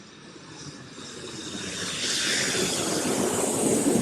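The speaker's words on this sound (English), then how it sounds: "Let's add an echo this airplane sound so it becomes a little more dreamy" A steady airplane engine roar with an added echo effect swells gradually, washed in a spacious, echoing reverb that makes it sound distant and dreamy.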